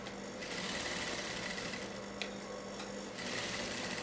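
A sewing machine stitches piping onto a blouse with a steady, close mechanical whir that runs unbroken for about four seconds, and nobody speaks.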